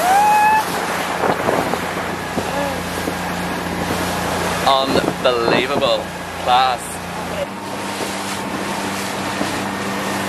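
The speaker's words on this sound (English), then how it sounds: "we're getting on a wee boat now. So we're gonna do a wee boat tour going over to Positano" Motorboat on a tour along the Amalfi Coast toward Positano, a steady engine drone with wind buffeting the microphone and water rushing past, while people chat and exclaim over it.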